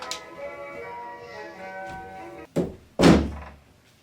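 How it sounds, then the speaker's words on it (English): An indoor door is pushed shut with two heavy thunks in quick succession, the second louder and more resonant, after a steady background hum. "Oh my god, why can't I close the door?"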